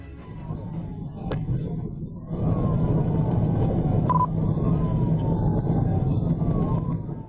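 A police car siren wails over steady road and engine noise during a chase, its falling tone sweeping repeatedly, growing louder partway through and staying prominent.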